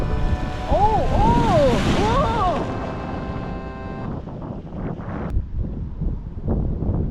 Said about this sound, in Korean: 파도 치니까 바다 같은데?